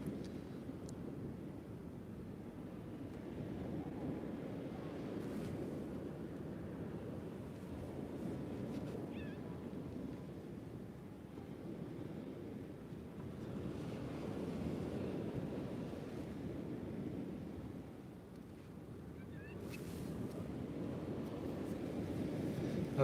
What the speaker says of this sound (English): It's a really, really windy night.